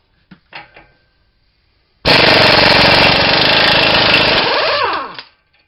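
A loud impact gun hammers away for about three seconds at the axle nut of a 2014 Honda CR-V with a 36 mm socket, a harsh rapid buzzing rattle after a few small clanks, then winding down.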